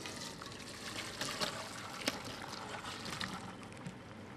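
Boiled potatoes are drained through a strainer, a faint continuous trickle and pour of water with a few soft clinks, steady and low in level.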